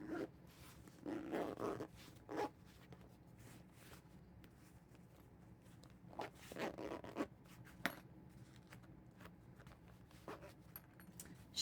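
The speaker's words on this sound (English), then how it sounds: "let's see if we can get it to zip." A zipper is drawn closed on a packed makeup bag in two bursts of scratchy pulling separated by a pause, faint and close up, with small rustles and taps between.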